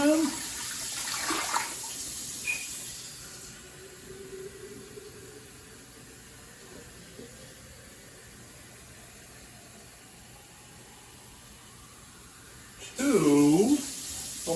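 Lukewarm tap water runs steadily into a Nesco electric canner for cold-packed chicken, a soft continuous rush lasting several seconds, with brief louder sounds at the start and end.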